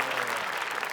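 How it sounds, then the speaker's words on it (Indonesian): A studio audience at a crossword quiz game show gives dense, steady applause. It is loud and close throughout the brief moment, with a faint trace of voices mixed in. "boleh kita beri tepuk tangan"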